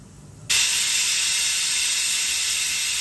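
A loud, steady pressure cooker whistle, cooking dal, bursts in after a quiet moment and hisses continuously at full strength until the end.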